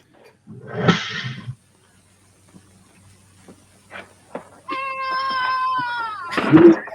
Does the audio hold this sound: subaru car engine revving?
no